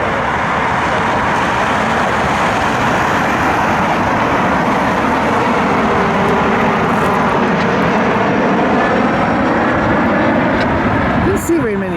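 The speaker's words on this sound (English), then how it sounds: "Endeavor 4997 CRJ 900 inbound from JFK." A CRJ 900 regional jet flying inbound, a steady loud broadband roar that holds for the whole stretch with a slow pitch sweep, heard over background traffic noise.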